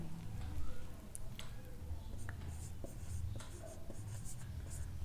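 Chalk or marker writing on a board during a class seven geometry maths lesson, a steady run of faint scratchy strokes and taps over room noise, with light speech murmur in the background.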